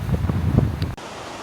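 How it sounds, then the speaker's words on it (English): Wind blows outdoors while cycling in Japan, a gusty, rumbling buffet against the microphone that ends abruptly partway through, leaving quieter steady hiss. "it's just getting a little bit too windy"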